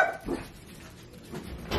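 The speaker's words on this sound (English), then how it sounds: "who would Binks and Tater bark at?" Two dogs barking indoors at a single-wide home, with a couple of short barks at the start and a burst near the end, moderately loud and no talking.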